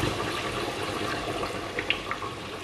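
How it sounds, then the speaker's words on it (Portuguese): Water pours from a container into a pot of braising lamb stew, a short steady splash and trickle close by. "Mas só vou acrescentar um pouco de água"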